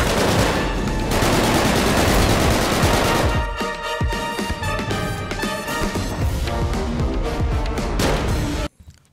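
Heavy automatic gunfire in GTA 5, loud, dense and continuous bursts of overlapping shots and impacts lasting several seconds before cutting off abruptly.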